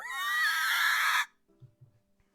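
A person's voice imitates a ghost's screech, one long loud high-pitched wail that cuts off sharply, followed by a couple of faint low sounds.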